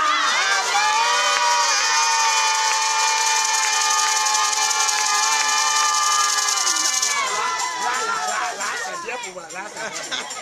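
A church congregation cheers and acclaims loudly and without a break, a dense mass of voices with strong tonal shouting, then a looser mix of individual cries near the end.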